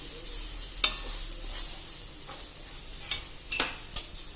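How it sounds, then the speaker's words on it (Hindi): Ground spices, mustard powder and roasted fenugreek powder being stirred together in a pan for a chilli chutney: several separate scraping strokes of a spoon over a faint, steady background hiss. "इन सबको मैं मिला दूंगी।"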